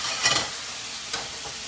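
Mahi-mahi sears in a hot pan with a steady sizzle throughout, broken by two brief louder scrapes or stirs near the start and again partway through; no one speaks.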